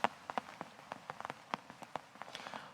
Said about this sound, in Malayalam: അതിശക്തമായ മഴയാണ് കണ്ണൂരിന്റെ വിവിധയിടങ്ങളിൽ ലഭ്യമാകുന്നത്